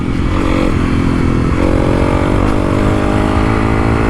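Honda CRF300L Rally motorcycle riding over a rocky gully track, with a loud, steady engine drone and faint clatter and scraping from the rough ground, with no talk.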